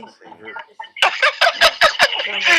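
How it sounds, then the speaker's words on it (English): Birds chirping and clucking inside a car, a run of sharp, bright calls coming close together, with talk going on beneath them. "You have birds in your car, Wendy?"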